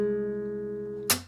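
A sustained guitar chord from a song's section 2 rings steadily at a slow pace, then a sharp slap hit cuts in near the end, close and alone.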